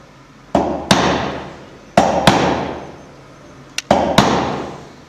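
Hammer striking a chisel while cutting a door hinge recess in wood: sharp, loud taps in pairs, about six blows with ringing decay between them, close and without talk.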